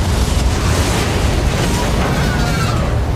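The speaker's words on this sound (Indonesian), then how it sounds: "Lori memasang peledak di dalam lift dan melompat keluar dari sana." Bomb blast inside a lift in a film: a loud, dense roaring rumble that fills the whole stretch without letting up, heavy and close, with no distinct voices.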